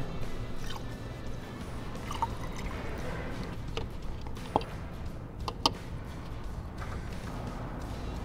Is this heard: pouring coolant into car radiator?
yes